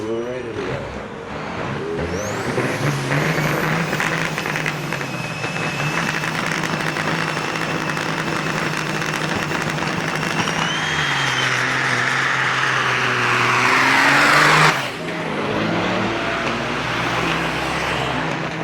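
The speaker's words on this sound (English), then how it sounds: "Peters with his beautiful K100, very powerful Caterpillar engine in the Corrigan Oil Lane." A Kenworth K100 big rig with a powerful Caterpillar engine pulls at a big rig challenge at Onaway Speedway, a loud sustained diesel roar that climbs and swells toward the end, with an announcer talking over it.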